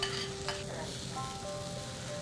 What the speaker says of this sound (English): We'll mix this gently and cook on a medium flame for 1 minute.